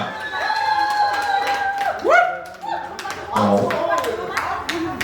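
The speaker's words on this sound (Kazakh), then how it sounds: "Ал ойынымызды қатынасқан бірінші командаға шапалақлар, қошеметтер қайда." At a school anniversary event, a crowd claps scattered and lightly in applause for the first team, while a voice speaks over it through a sound system.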